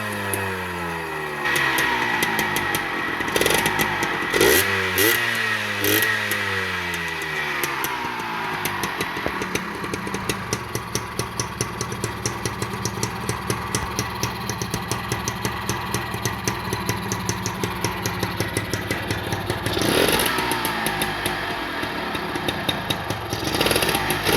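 A Suzuki two-stroke motorcycle engine, left parked overnight, sputters to life, revs up and down with rising and falling pitch, then settles into a rapid, crackling idle close by.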